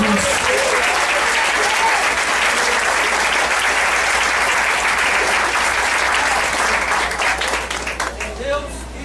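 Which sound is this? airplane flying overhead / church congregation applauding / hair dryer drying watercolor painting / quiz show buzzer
church congregation applauding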